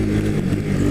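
A Bajaj Pulsar 200 NS motorcycle engine revs hard and close, pushed under fairly extreme riding conditions, in a brief loud burst with a slight dip in the middle.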